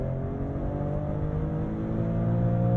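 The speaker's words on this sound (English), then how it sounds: "the bark of the exhaust on the upshift" Maserati Grecale Trofeo SUV with a deep, steady exhaust drone and engine hum from inside the cabin, rising slightly toward the end, with no voices.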